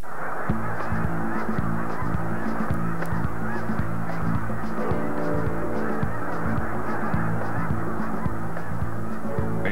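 A large flock of snow geese honks continuously, dense overlapping calls forming a loud, clamorous chorus with no pauses.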